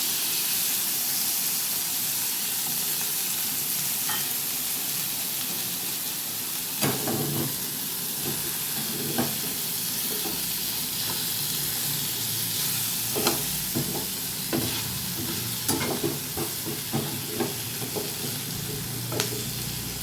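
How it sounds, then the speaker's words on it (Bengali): Large chopped onion pieces sizzle steadily in hot oil, a constant close frying hiss with occasional light stirring clicks and pops, no voices. "পেঁয়াজটা হালকা ফ্রাই হবে।"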